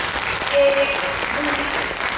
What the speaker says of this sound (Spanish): Un gran aplauso para ellos, por favor.